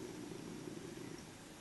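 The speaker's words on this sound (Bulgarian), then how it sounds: "Кой мърка?" A cat purrs in a low, steady, continuous rumble, quiet and close, with no other sounds.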